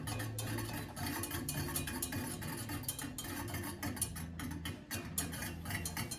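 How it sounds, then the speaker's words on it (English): A whisk rattles and scrapes steadily against a pot as vegan cheddar cheese sauce thickens over low heat after coming to a boil. The clinking strokes are close and continuous for several seconds. "whisk it as it continues to thicken"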